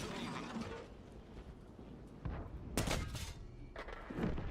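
A mine blows up under a tank in World of Tanks, a faint mechanical rattle punctuated by a couple of sharp explosive bursts against quiet background.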